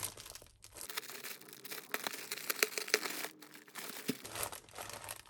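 Plastic zip bags from a yarn parcel are handled close up, giving irregular bursts of crinkling and crackling with brief quiet gaps between the handling.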